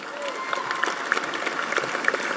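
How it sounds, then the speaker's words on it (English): Audience applause at the Scarborough RC School graduation ceremony in 2024: steady crowd clapping with some sharper individual claps, moderately loud, with a voice speaking over it. "give them another round of applause"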